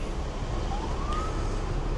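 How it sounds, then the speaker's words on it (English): A police siren wails from a distance over steady late-night street traffic rumble on Atlantic Avenue in Atlantic City, its rising tone drifting faintly above the background. "Can hear more police cars rolling down."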